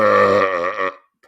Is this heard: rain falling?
no